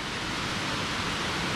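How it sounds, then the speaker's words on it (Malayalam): Achankallu waterfall at Konnakkad in Kasaragod sends a steady, even rush of flowing water, a soft continuous hiss with no other sounds. "ആ വെള്ളം കണ്ടോ ഒഴുകി വരുന്നുണ്ട്, അതാ ഇതാണ് വെള്ളച്ചാട്ടം"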